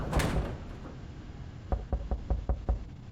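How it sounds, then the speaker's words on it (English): In the survival video game 60 Seconds, a thud opens the clip, then a moment later a door is knocked about six times in a quick steady series, clear and moderately loud. "Oh, a knock at the door."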